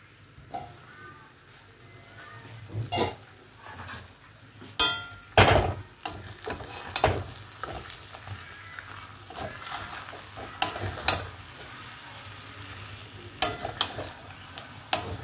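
A spoon stirs chorchori, a Bengali mixed-vegetable dish, in a pan, making scattered scrapes and sharp clanks against the metal at an uneven pace over a faint background hum.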